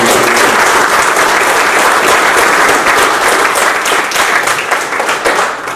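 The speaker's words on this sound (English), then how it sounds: "let's give them one more round of applause" An audience at a historical talk on the Corona Fire Department breaks into loud, sustained applause, a dense wash of clapping that tapers slightly near the end.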